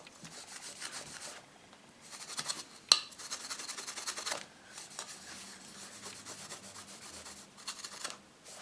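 Clean cloth rubbing polish off chrome-finish plastic trim, producing close, soft scrubbing strokes in bursts with short pauses and one small tap, with no talking.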